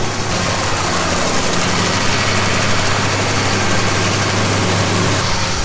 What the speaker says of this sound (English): So now the grinder's full of oats